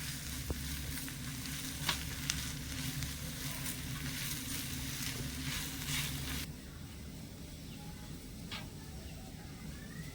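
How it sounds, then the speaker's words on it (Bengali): Potato filling with spices and chopped green chili is stirred and fried in a pan for a vegetarian mini Mughlai paratha, giving a steady sizzle with intermittent scraping strokes, quieter after the first six seconds. "এবারে সব কিছু নেড়ে চেড়ে মিশিয়ে একটু ভাজা ভাজা করে নিতে হবে"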